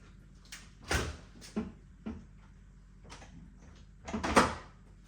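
Doors of a Perfect Draft home beer machine being opened, a few soft thuds and plastic clicks over a steady low hum, close by.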